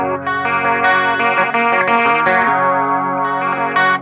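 Distorted electric guitar with chorus and effects plays a chord on the lower strings in a song, a thick sustained strum with riff notes ringing on for four seconds.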